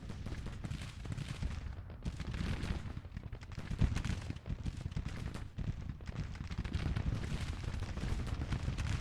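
Battlefield gunfire and artillery from the Civil War strategy game Grand Tactician rumble continuously, a dense crackle of musket volleys mixed with deeper booms, distant-sounding and fairly quiet throughout.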